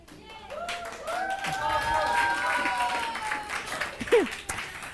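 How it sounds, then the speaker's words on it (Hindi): A classroom of students applauds to welcome a boy to the front: a steady burst of clapping lasting several seconds, with voices and talk over it and a brief louder shout near the end. "एक बार तालियां बजा दो।"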